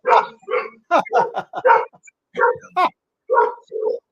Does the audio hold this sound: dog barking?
yes